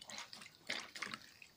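Water splashes and trickles in a bucket, faint and close, in a few short sloshing bursts.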